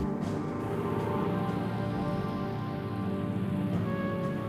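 Steady rain falls in the season of rain and sleet on the Russian front during the World War II German advance, a dense continuous hiss and patter on surfaces with no voices.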